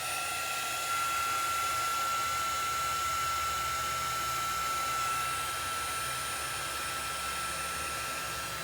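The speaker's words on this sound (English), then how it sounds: "when you use the heat, this is a heat tool. Mine's a Recollections." A Recollections handheld heat tool blows steadily up close, a continuous even whoosh with a faint whine that runs unbroken the whole time as it dries paint on a craft piece.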